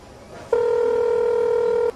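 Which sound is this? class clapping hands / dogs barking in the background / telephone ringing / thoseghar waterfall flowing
telephone ringing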